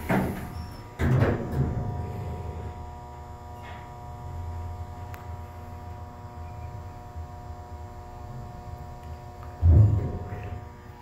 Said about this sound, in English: We're going to take one more ride on this elevator.